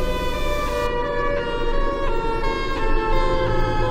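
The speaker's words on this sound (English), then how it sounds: "Yeah, that's definitely Siren Head. It has to be him" Sustained wailing siren of the Siren Head monster in a video game, a dense stack of steady tones droning continuously at moderate loudness, with no speech over it.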